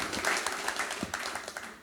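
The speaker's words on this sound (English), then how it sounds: "A round of applause," An audience at a sales talk gives applause for the panel, a quiet, brief patter of many hands clapping at a distance, fading out at the end.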